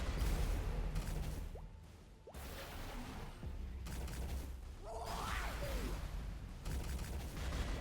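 Rapid high-speed cannonball fire from a Cannoneer character in an action video game, a burst of whooshing blasts and booms layered over constant game noise, with a swelling effect near the middle.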